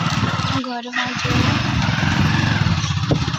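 A motorcycle engine drones steadily and loudly throughout while riding home, with a brief voice near the start over the engine noise.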